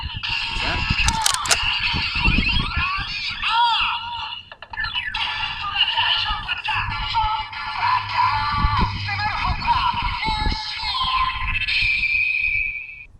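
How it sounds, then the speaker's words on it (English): A Kamen Rider Revice Driver toy from a 50th anniversary set plays a loud electronic transformation effect, with warbling synth tones, screechy sweeps and bursts of music, ringing out for about thirteen seconds. "that was the sound of the original transformation noise for Ichigo's Typhoon"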